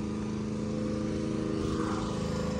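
A Mercedes C63s with a stage 1 tuned V8 bi-turbo engine, rated at 590 hp and 700 Nm, runs at a steady, even idle, close by and continuous, with no voices.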